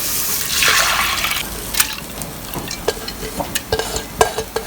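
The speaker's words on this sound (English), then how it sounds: "And now I will put in the dal with the water." Dal and water splash into a hot pan with a brief hiss and sizzle, followed by scattered clinks and scrapes of stirring.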